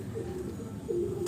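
Pigeons in a loft coo softly, with low rolling calls that rise once near the end, faint against a quiet background hum.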